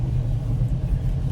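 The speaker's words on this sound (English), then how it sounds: "we're gonna do our first drive in the car with the new shocks" A car on newly fitted shocks rolls along, heard from inside the cabin as a steady low road rumble and engine drone, loud and even throughout with no speech.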